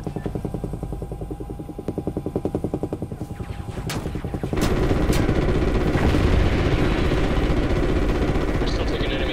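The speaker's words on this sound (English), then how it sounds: "We're still taking enemy AA fire from behind the smokestacks" Anti-aircraft gunfire in Call of Duty: Ghosts during an aerial mission, rapid rhythmic bursts under a droning aircraft engine, growing louder and denser midway as a heavy rumble and sharp blasts join in.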